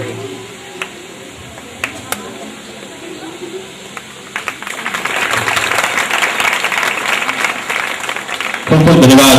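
Applause at a primary school teacher's retirement farewell ceremony in a village, scattered claps building into steady clapping from a gathered crowd, with a louder swell at the end.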